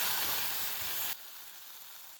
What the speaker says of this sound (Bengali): আর এদিকে আমার আলু কচুটাও ভাজা হয়ে গেছে